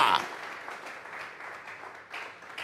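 A church congregation applauds as an offering of praise during a Spanish-language sermon, a dense burst of clapping that settles into a steady moderate patter with a brief swell near the end.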